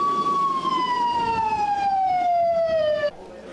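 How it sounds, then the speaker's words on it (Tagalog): Municipal flood warning siren sounding to warn riverside residents, a single loud wailing tone gliding slowly downward with strong harmonics for about three seconds before cutting off, over faint background noise. "nagpatunog na ng sirena ang munisipyo para abisuhan ang mga residente sa tabing ilog na lumikas na"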